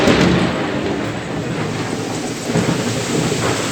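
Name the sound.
loud thunder during heavy rain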